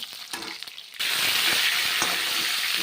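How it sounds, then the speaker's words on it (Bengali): Mushrooms fry in a hot pan for a vegetarian pointed gourd curry. Quieter stirring comes first, then a loud, steady sizzle with faint scraping. "তারপর এখন মাশরুমগুলো ভেজে নিচ্ছি"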